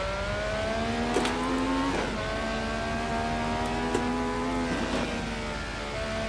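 A race car engine in the video game Assetto Corsa drones steadily, its pitch climbing and dropping sharply with each gear shift, repeated several times.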